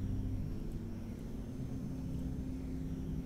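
A character's flight-mode engine in the XCOM video game gives a loud, steady, droning roar that runs without break, alone and with no talking.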